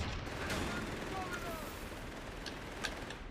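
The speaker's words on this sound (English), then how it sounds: "the infantry support gun is also chipping in now" Infantry support gun firing in Company of Heroes 3, a battle scene with dense, continuous gunfire and a few sharper reports under steady combat noise, with no single shot standing clearly apart.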